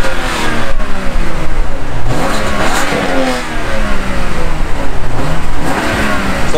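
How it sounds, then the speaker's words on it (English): BMW engine with its exhaust valve closed, given a few light throttle revs at a BMW car meet in Melbourne; a loud, close engine note that rises and falls repeatedly with no talking. "Let's get some light revs. You can hear it."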